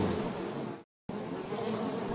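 A swarm of flies drones in a dense, steady buzz, abruptly cut by a short moment of silence before the buzzing resumes just as thick.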